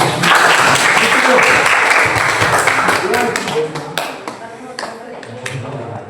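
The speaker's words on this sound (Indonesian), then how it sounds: "Beri tepuk tangan." A classroom full of people claps, loud at first and then thinning out into scattered claps, with voices murmuring underneath.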